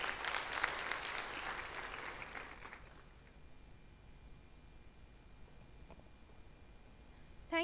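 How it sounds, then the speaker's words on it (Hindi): An audience applauds children at a school event, with brief, fairly distant clapping that fades within about three seconds and gives way to quiet room noise. "एक बार दोबारा से ताली बजाइए बच्चों के लिए."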